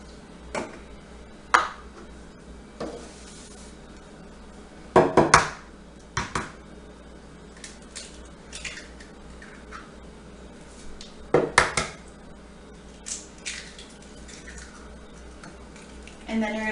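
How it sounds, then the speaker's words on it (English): Eggs and vanilla whisked into brownie batter: scattered clinks and taps of a whisk against a bowl, in brief bursts separated by quieter gaps, with a voice speaking at times. "mix this until the color is even and you can tell that the eggs are whisked well"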